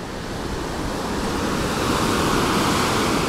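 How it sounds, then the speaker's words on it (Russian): Strong wind roaring steadily by the sea at a port in Alanya during a day of wind and rain, loud and continuous, with surf washing underneath. "Я извиняюсь, если вы слышите много ветра"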